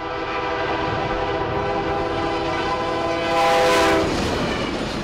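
A train speeds through Quitman County with steady rail rumble and clatter while its horn holds a long sustained blast, swelling briefly louder near the end.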